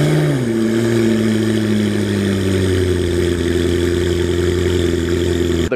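A McLaren sports car with a modified exhaust, running on E85, idles loud and close with a deep, steady drone, a small rev shifting its pitch early, then cuts off abruptly at the end.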